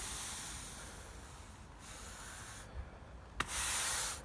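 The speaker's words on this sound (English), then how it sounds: "You just brush it around and sweep away any excess." A brush sweeping sand across block paving on a driveway, a continuous gritty rubbing hiss that briefly drops away and then returns louder, close by and without talk.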